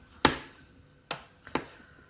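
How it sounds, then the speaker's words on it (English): A knife chops down through mushrooms on a board, three or four sharp, close knocks spaced unevenly with quiet gaps between them. "just get your mushrooms, chop them and slice them"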